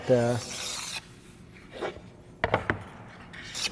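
A blade scrapes and trims a thin strip of excess edge material from cabinet wood, heard as several short rasping strokes and scraping passes close by, with brief pauses between them.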